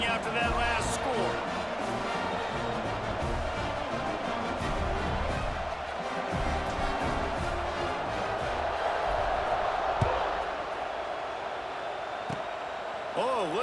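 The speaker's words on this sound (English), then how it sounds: "this crowd is buzzing after that last score" Simulated stadium crowd in EA Sports College Football 26 buzzes steadily after a score, a dense continuous roar with occasional swells, heard beneath game commentary.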